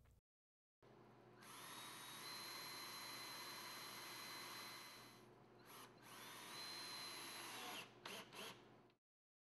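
A power drill drives screws into a Murphy bed panel. There are two long, whining bursts with rising motor pitch, each ending in quick stuttering pulses, and a short pause between them. No one speaks.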